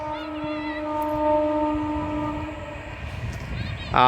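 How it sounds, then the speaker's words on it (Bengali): An express train heading toward Howrah, heard from a distance, sounds a long, steady multi-tone horn that holds for a few seconds. Rumbling rail noise rises underneath as the horn fades. "দূর থেকে ট্রেন যাচ্ছে এক্সপ্রেস ট্রেন যাচ্ছে"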